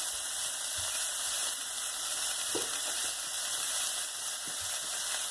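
Vegetables cooking in a pan for a yogurt sandwich filling, giving a steady, moderate sizzle and hiss throughout with faint occasional stirring knocks, no talking.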